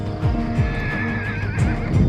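A horse at the start of a riding tour in the Balkans gives a loud whinny and neighs over steady hoof clip-clop and close-up background noise.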